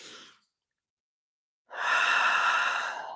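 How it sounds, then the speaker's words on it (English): A deep breath: a short intake, a pause of silence, then a long, audible exhale of breath that trails off slowly. "you take a deep breath"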